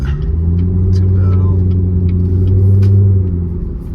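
A loud C7 Corvette engine drones steadily from inside the car on a late-night drive, a deep low rumble that swells slightly and then eases, with faint intermittent clicks and no talking.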